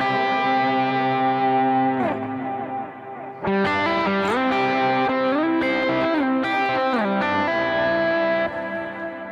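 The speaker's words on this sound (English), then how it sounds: "This is with delay and reverb." Electric worship-style guitar is played through delay and reverb pedals, with sustained distorted notes and chord changes that ring out and echo, briefly dipping before swelling again.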